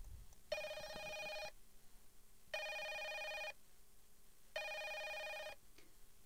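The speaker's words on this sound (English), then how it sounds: "After the phone rings 3 times" A telephone rings three times, each ring a bright, warbling electronic trill about a second long, separated by short pauses, fairly close and clear against quiet background.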